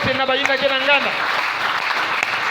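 A church congregation breaks into dense, steady applause that fills the room, with a voice briefly audible at the start before the clapping takes over.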